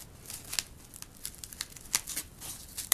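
An X-Acto knife finishes cutting a clone insert for a grow tower, giving soft, close scratchy slicing and crinkling strokes in small irregular bursts, with no voices.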